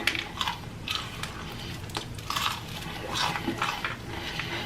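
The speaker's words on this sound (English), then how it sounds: "This chicken is so crunchy and good." Someone chewing a crunchy, still-steaming Popeyes fried chicken sandwich, with close, steady crisp crunching and soft mouth sounds and no talking.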